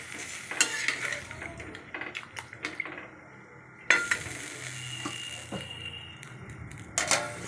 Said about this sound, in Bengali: এবার জল দিয়ে দিলাম, দিয়ে ভালো করে নাড়াচাড়া করে নিলাম।